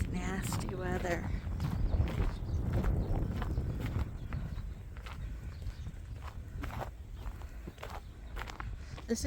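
Footsteps crunch unevenly through snow and wind during a worsening blizzard on a sheep farm, with a person speaking over the steps.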